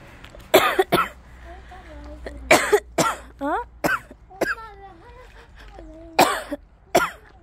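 A young child coughs in short, sharp bursts several times on a foggy morning walk to daycare, with brief spoken Korean words in between.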